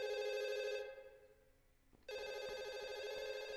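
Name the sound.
telephone ringing in a horror video game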